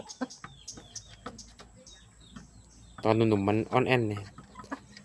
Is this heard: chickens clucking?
yes